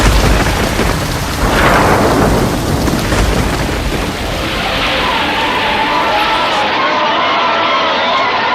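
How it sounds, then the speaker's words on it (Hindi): Heavy rain and thunder as a sound effect in a stage play of the Govardhan Leela, a loud rumbling crack fading into a steady roar of downpour that fills the whole stretch without speech. "कार्तिक मास में इतनी भारी वर्षा।"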